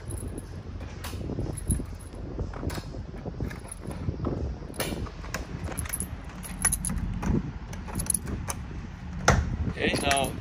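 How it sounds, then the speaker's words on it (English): Keys jangle and metal latches and hinges of a black BBQ concession trailer's doors click and creak open, in a steady run of close rattles and clanks outdoors. "Now I'm gonna go ahead and open up the doors, show you the inside."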